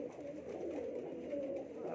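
Pigeons, including a Teddy pigeon and a pure Sialkoti pair, in a rooftop loft, giving a faint, low, continuous cooing murmur over a soft background hum.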